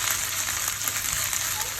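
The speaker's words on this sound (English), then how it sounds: "just frying the chicken in the coconut oil" Chicken frying in coconut oil in a pan gives a close, steady crackling sizzle that runs unbroken from start to end.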